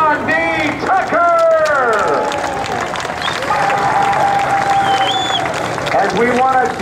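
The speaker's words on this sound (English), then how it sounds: "one more big round of applause for Sean D. Tucker" An airshow crowd applauds outdoors at an Air National Guard open house in Rhode Island, the steady clapping running under a loud announcer's voice and other tonal sounds that sweep and glide across the whole stretch.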